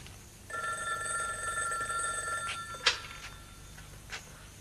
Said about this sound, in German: Ich erwarte diesen Anruf.